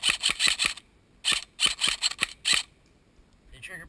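An airsoft M4 rifle with a grenade launcher fires rapid bursts on full auto, two short strings of sharp snapping shots close by, each a quick run of about five cracks, then a brief pause.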